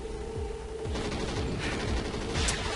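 Rapid gunfire from several players keeps pounding at the breeder boss in Call of Duty: Ghosts Extinction, the Nightfall map, in steady dense bursts with heavy low thuds and no pauses.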